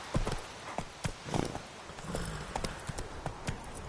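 Roach, a horse in The Witcher 3 video game, trots with a steady, quick clip-clop of hooves, moderately quiet and heard alone with no talking.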